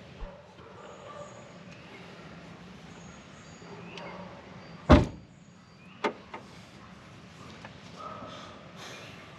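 A 2003 Honda Civic door shuts with a single sharp thud, close by, over a low background hum, followed by a few smaller clicks and knocks, with people talking nearby.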